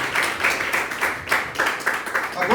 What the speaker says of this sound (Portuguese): As palmas, louve Deus.